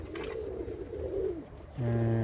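A Eurasian collared dove coos in several soft, low, repeated phrases over steady background noise, then a loud, steady humming tone abruptly takes over.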